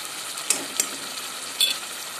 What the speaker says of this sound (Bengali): এখন আমি টমেটোগুলো দিয়ে দিচ্ছি।